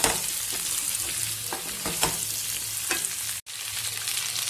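Cauliflower and potato pieces fry in a pan, giving a continuous close sizzle broken by light clicks and scrapes of stirring and one brief drop-out, with no talking.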